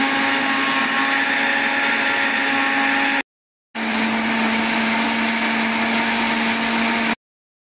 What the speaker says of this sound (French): les légumes que je vous ai cités tout à l'heure, oignons, feuilles d'oignon, tomates, piments, je vais les passer au mixeur